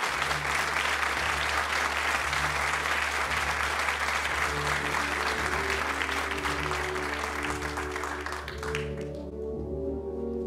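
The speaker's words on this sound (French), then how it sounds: "Alors je vous demande un tonnerre d'applaudissements." A theater audience at a comedy dance show claps heavily in a dense, sustained roar that fills the room, while low music plays underneath and takes over near the end as the applause drops away.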